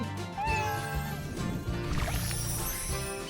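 Cats meow over a dense, busy background of music and sound effects, with a few short mewing calls standing out in the first couple of seconds.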